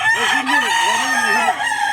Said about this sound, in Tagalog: Mga manok